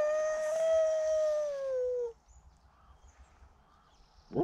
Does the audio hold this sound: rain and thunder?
no